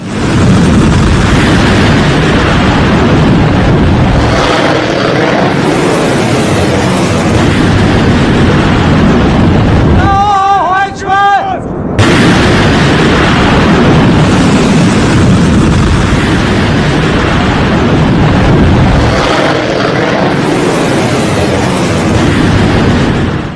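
Iranian missile strikes in war news footage: a continuous loud, rumbling roar of blasts and booming noise filling the whole stretch, briefly broken by a short tonal burst before the heavy rumble resumes.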